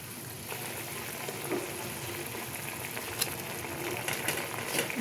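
Fried eggplant pieces going into a simmering, lightly sweetened sauce in a pan: a steady crackling sizzle and bubbling throughout, with a few brief clinks and stirring noises, close and fairly loud.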